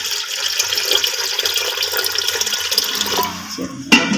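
Water poured into a pot of masoor lentils being cooked on the stove, a steady splashing, running pour that fills the clip, close and fairly loud, with no talk over it.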